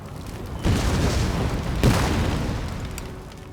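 Cannon fire in Napoleon: Total War, aimed at Napoleon on the battlefield: two deep booming shots about a second apart, each with a long rolling rumble that fades out gradually.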